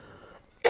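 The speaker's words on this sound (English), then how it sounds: "Sorry about the cough." A single sharp cough bursts out near the end, close and loud, after a short stretch of quiet room tone.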